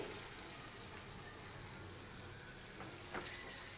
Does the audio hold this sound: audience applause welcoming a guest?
no